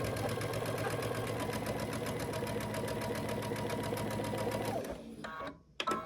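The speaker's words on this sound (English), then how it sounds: "I'm going to take them to the sewing machine and I'm going to sew a 1/4 inch down this side" A sewing machine stitches a quarter-inch seam on a sawtooth star quilt block with a fast, even mechanical chatter, then stops, followed by a few small handling clicks.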